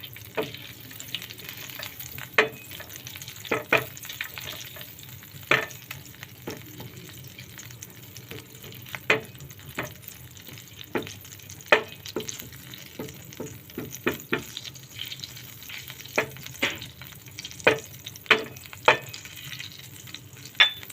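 Butter melts in a pan with a soft steady sizzle, broken by scattered clicks and scrapes of a utensil, close and moderately quiet, no one talking.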